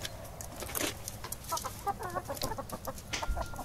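Free-range chickens leave their coop, giving soft, repeated clucks amid faint outdoor ambience, fairly distant and quiet.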